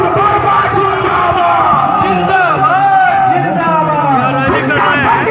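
Crowd noise from a BJP election rally in Gola, Gorakhpur, loud and close, with many voices shouting and chanting together in a continuous dense roar.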